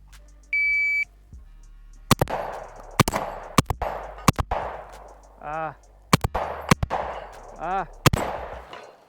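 Stoeger M3K shotgun blasts at a shooting range, seven loud, sharp reports in uneven bursts, with electronic timer beeps at the start and faint range noise between shots.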